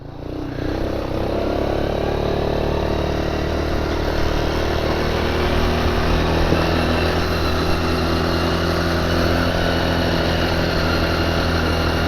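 Can-Am DS 70 ATV engine held at full throttle on gravel, a loud, steady, buzzing drone that stays close and even throughout with no talk.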